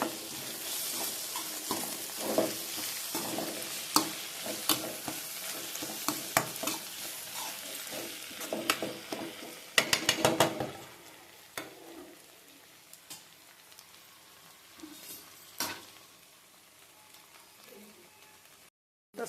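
A spoon stirs okra curry seasoned with chili powder in a pan for okra tamarind stew, making steady soft scraping and gentle sizzling with occasional clinks against the pan, quiet and close, with a brief cluster of clatters midway.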